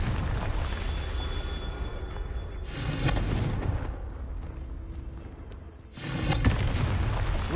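Confringo spell explosions in Hogwarts Legacy, a rumbling blast that fades into a quieter stretch before a second loud boom erupts, each with a long roaring tail.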